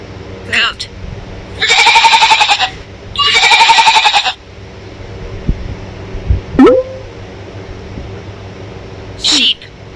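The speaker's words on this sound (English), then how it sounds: "Goat." Farm goat bleats twice in long, wavering, nasal cries close up, framed by short chirps and a quick rising tone, with quieter gaps between.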